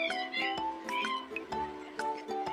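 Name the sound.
cat meowing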